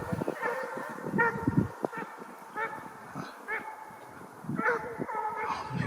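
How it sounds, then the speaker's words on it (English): Several hunting dogs bark and yip on a deer's trail outdoors, with irregular bursts of barking at mid distance, partly under someone talking. "The dogs get on the deer's trail. They're barking."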